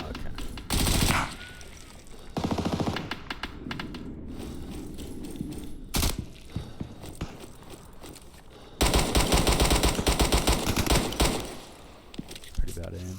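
Gunshots from the shooter game Deadline, with a pistol in use, ring out in loud clusters of sharp, rapid reports amid a steady busy game background, the longest burst near the end, with talk in between.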